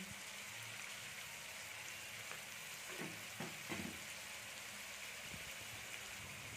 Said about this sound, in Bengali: এবার আমরা এটাকে একটু ভালো করে ভেজে নেব